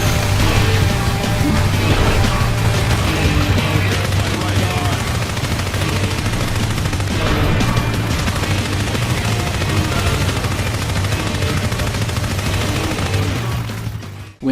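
Guns firing in NeverDead, a steady dense barrage of shots and blasts layered with game music, continuous and loud throughout before cutting off abruptly at the end.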